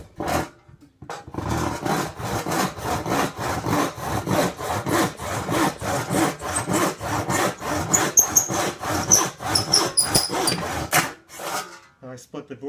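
A freshly hand-filed rip saw cuts through a board in a steady rhythm of rasping back-and-forth strokes, roughly two per second, close and loud for about ten seconds before stopping.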